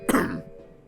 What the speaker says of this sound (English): this is a perfect excuse for me to clear my throat